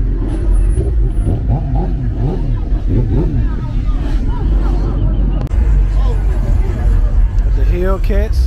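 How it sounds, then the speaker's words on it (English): Dodge Hellcat cars rumble and rev past at a Memphis block party. The engine noise runs steadily under loud crowd chatter and nearby voices. "The Hellcats coming through."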